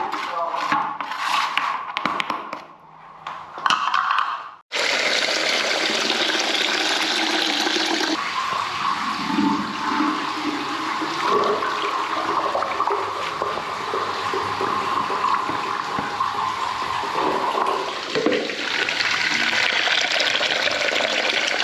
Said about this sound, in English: we'll try flushing some water through and see what happens.